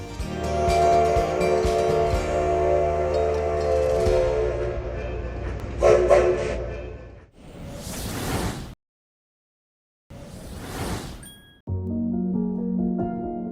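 A train rumbles along with a steady mechanical drone and a horn blast, then rushing whooshes come in bursts separated by sudden silence.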